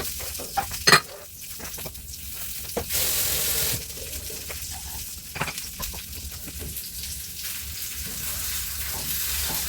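Chicken fries in a pan with steady sizzling while it is stirred, giving scraping and clinking utensil hits against the pan and a brief louder hiss in the middle.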